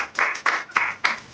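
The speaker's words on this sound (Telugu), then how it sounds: "ఓపెన్ చేసినప్పుడు మరి క్లాప్స్ కొట్టాలి కదా అందరూ" Several people clap in short separate bursts, four quick rounds close by, as a Christmas tree box is opened at home.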